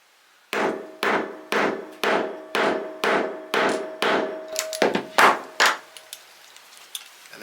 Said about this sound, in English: and we'll just hammer that down.